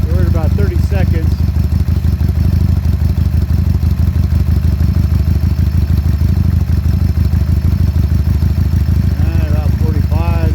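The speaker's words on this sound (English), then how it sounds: "at that point this 2003 carbureted Evo ought to be idling good." A 2003 carbureted Harley-Davidson Sportster Evo engine idles with a steady, close, loping rumble and a mechanical clatter, and someone talks over it at the start and again near the end.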